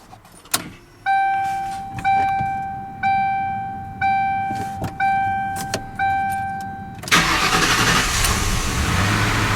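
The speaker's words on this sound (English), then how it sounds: "let's find out if the car actually starts" A Ford Crown Victoria Interceptor's engine, just after an intake manifold replacement, cranks in five or six repeated starter bursts with a chime sounding between them, then catches and settles into a steady idle, close and clear.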